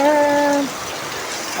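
Hail and rain come down in a steady, broad hiss for the whole stretch, with a brief tonal hum near the start.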